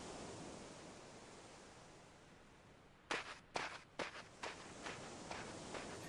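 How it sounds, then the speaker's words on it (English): Footsteps in the video game EverQuest: a string of sharp, uneven thuds over a steady hiss of background noise, close and fairly loud, fading slightly toward the end. "almost everything makes the exact same footstep sound"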